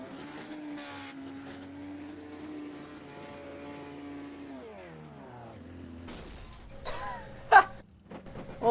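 A race car does burnouts on the dirt configuration at USA International, its engine revving in a long rising, falling drone that is close and steady, then breaking into sharper bursts and roars near the end.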